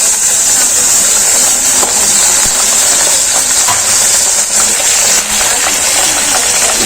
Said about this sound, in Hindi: अभी जल नहीं जाए इससे पहले मैं इसके अंदर ये कीमा ऐड कर रही हूँ।